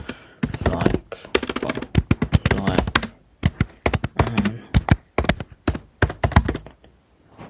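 Computer keyboard keys clatter in rapid bursts of typing, close and crisp, with short pauses between runs and no voices.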